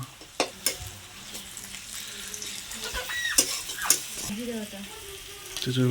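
Garlic, cumin and ginger pastes frying for a crab curry while being stirred, with soft sizzling broken by distinct spoon knocks and scrapes against the pan.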